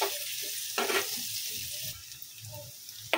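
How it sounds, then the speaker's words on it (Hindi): Two chopped onions fry in a pan for mutton cheese roll stuffing, a steady soft sizzle with occasional stirring scrapes and clinks, close and fairly quiet. "पहले 2 कटे हुए कांदे डाल देंगे और इसको अच्छे से ब्राउन कर लेंगे"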